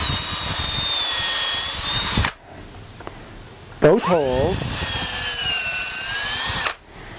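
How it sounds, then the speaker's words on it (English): A power drill whirs steadily through wood in two long bursts with a brief pause between, a voice speaking quietly in the gap, while making wooden stilts. "You're gonna take your drill,"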